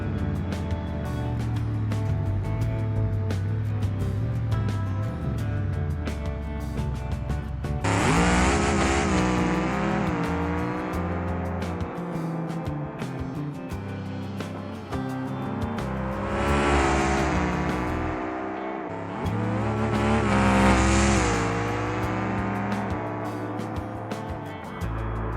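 A naturally aspirated D-Series car on a BeamNG drag run roars at full throttle, its engine note climbing steadily through the gears with sharp shifts and renewed surges of revving, loud and continuous.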